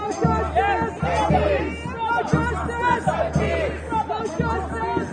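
A dense crowd at a Black Lives Matter protest in Central London murmurs and chatters all around, many voices overlapping close by in a steady, lively babble.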